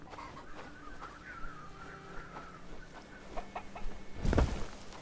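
Soft clucking from chickens in the medieval village game Bellwright, faint scattered calls over a quiet ambient background, with a louder cluck near the end.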